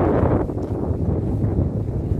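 Steady wind buffeting the microphone in the mountain village of Ahmetler, a low rumbling roar that gusts slightly but never lets up, with no voices.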